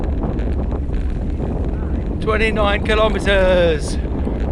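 Wind buffeting a cyclist's microphone while riding slightly uphill into a cold headwind, a constant low rumbling roar with a voice speaking briefly over it.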